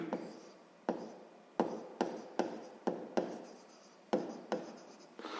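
Pen or pencil strokes on paper as math is worked out during a lesson, a close scratchy scribble in short bursts with sharp starts, about ten strokes in quick irregular succession, with no voices.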